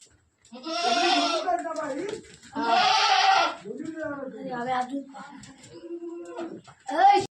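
Young kid goats on a Konkan farm at night bleat repeatedly up close, with several loud drawn-out cries and shorter calls overlapping one another, no other sound around them.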